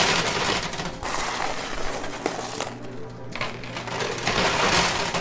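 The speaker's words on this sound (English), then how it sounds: "that gold tower on the left side fell down, but it got stuck" A high-stakes coin pusher arcade machine clinks and rattles nonstop as coins, chips and a gold tower of prizes shift and tumble, with dense metallic jangling and mechanical whirring throughout, close and busy.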